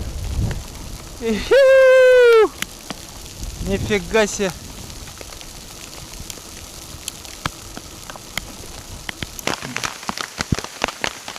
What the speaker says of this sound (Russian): Град пошел